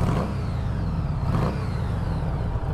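A Harley motorcycle engine revs through its exhaust, a loud steady low rumble with two brief swells in throttle, close to the microphone.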